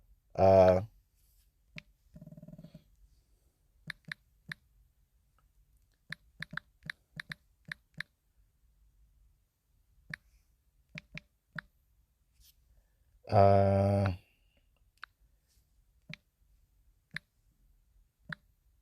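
Scattered light clicks of keys being tapped in short bursts, faint and close, broken up by two brief loud voice-like sounds.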